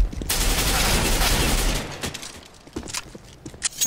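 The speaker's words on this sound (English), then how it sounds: "Throwing flashbang." A flashbang grenade bursts amid gunfire on the Cache map in CS:GO, a loud sustained blast and ringing wash for under two seconds, followed by scattered sharp shots and faint voices in the background.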